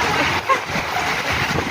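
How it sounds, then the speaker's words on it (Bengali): Rain falling outside a restaurant, a steady broadband hiss with a soft wash of noise heard continuously, without distinct drops. "খুব সুন্দর বৃষ্টি পড়ছে"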